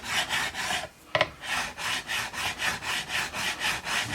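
A file or abrasive is rubbed up and down guitar frets to remove burrs left by sandpaper, giving a close, quiet run of about a dozen even, rhythmic rasping strokes with a brief knock near the start.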